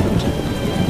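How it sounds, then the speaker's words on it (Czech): Steady rain pours with a low rumble of thunder in The Witcher game world, a continuous dense wash of rainfall filling the short stretch without any voices. "Prší, prší"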